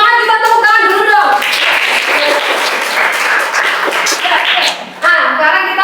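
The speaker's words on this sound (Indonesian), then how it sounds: "Yuk, biar semangat kita tepuk tangan dulu dong." A school class claps together during a lesson, a burst of dense, loud hand clapping in the middle framed by raised voices before and after.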